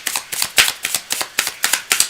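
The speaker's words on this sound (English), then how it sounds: "So let me just finish this one more little shuffle." A deck of tarot cards being shuffled by hand, with quick crisp riffling bursts repeating in a steady rhythm about every fifth of a second, close and clear, with no talking.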